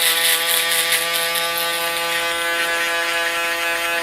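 Electric hair clippers buzz steadily at close range, a bright, even mechanical whine with a slight rubbing texture as they are worked against the grain of the hair during a barber's fade cut.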